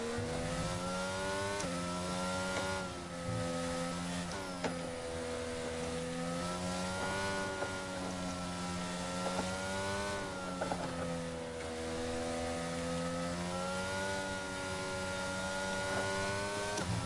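A racing car engine in a racing video game on a Japanese circuit screams at high revs throughout, its pitch rising and falling in repeated gear shifts and braking dips, loud and continuous without talk.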